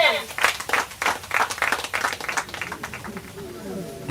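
A crowd claps in loose bursts for a few seconds while voices talk over it, the clapping fading toward the end.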